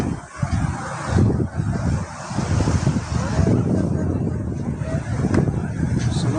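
Sea waves surge against the rocky shore at Rushikonda beach in Visakhapatnam in a loud, continuous roar, buffeted by heavy wind noise on the microphone.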